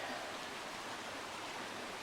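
A river flows past a rural smallholding, giving a steady broadband rush of moving water that holds even and unbroken throughout, with no voices.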